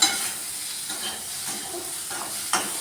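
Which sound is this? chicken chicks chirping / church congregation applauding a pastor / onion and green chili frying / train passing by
onion and green chili frying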